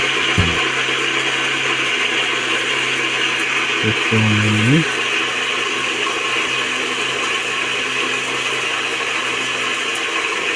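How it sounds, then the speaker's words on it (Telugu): An electric mixer grinder whirs steadily while grinding bitter gourd into juice, a dense continuous motor hum throughout, close by, with a couple of brief knocks and a short rising mechanical tone in the middle. "మిక్సీ పట్టేసి మొత్తం మెత్తగా"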